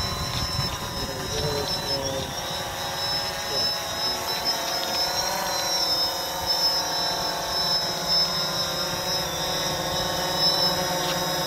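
A Parrot Bebop drone flies with a steady, continuous high-pitched whine from its rotors that holds throughout. Background noise and possible voices sit underneath.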